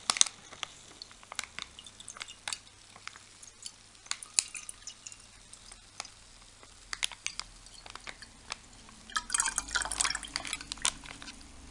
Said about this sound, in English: let's fill this glass up and hopefully it's a big enough glass